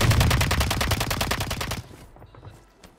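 Automatic gunfire in a battle royale video game, a loud, close, rapid burst of evenly spaced shots lasting nearly two seconds, then cutting off to a quieter tail of faint, scattered pops.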